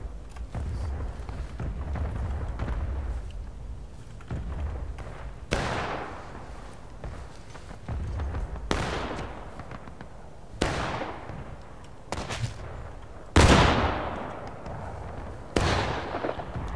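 Musket volleys in a War of Rights Union skirmish crack out in repeated sharp, loud reports spaced a few seconds apart, over a low rumbling battlefield background.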